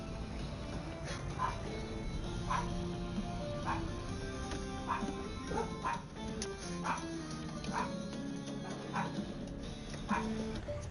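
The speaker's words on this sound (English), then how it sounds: "Damn dog." A dog barks and whimpers in short repeated yips spread through the stretch, fairly close and steady against a busy background, with occasional murmured speech.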